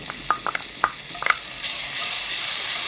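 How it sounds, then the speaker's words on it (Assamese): Ginger and garlic sizzle and crackle in oil left from frying fish, a few sharp pops at first giving way to a steady, bright frying hiss. "মাছ ভজা তেল আছিলে, তাতে মই এতিয়া আদা নহৰুখিনি ভাজি ল'ম"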